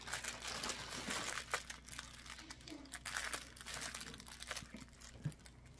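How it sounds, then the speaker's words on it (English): A plastic bag from an online shopping haul is pulled back and handled, giving continuous close crinkling and rustling that runs throughout the clip with no talk. "let's pull that bag right back."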